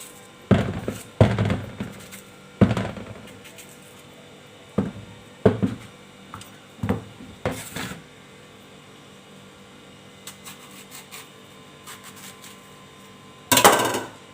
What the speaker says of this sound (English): I'll be chopping up the plantain this way